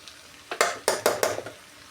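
Coconut powder dal being stirred in a pan and then covered with a lid, heard as a cluster of four or five quick scraping, clattering strokes close up, alone, with quiet gaps before and after.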